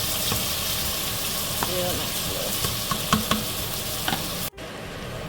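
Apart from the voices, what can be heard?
cabbage, bacon and chopped vegetables frying in grease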